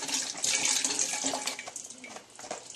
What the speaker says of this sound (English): you want to pour in 1 quart and then just eyeball about like half of the other quart